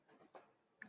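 Several soft computer mouse clicks, faint and close, a few light taps followed by one sharper click near the end, with no talking.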